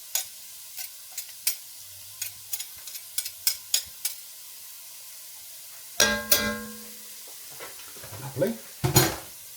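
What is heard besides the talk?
garlic being stirred in a sizzling pan for ham and cabbage soup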